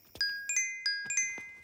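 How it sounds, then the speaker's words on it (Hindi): Phone ringing tone on a call, a bright electronic chiming pattern of quick repeated tones in short bursts, clear and close with no voices over it. "रिंग जा रहा है, रिंग जा रहा है।"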